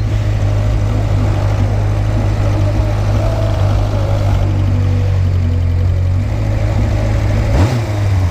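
Motorcycle engine idling close by, a steady low rumble holding even throughout with no revving, alone without talk.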